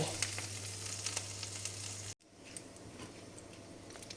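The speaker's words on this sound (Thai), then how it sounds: "ทอดไข่ ทอดไข่กินมื่อนี้นะ" Eggs fry in a pan with a soft, even crackling sizzle and light tapping, briefly cut by a short gap before the spitting resumes at a fainter level, without speech.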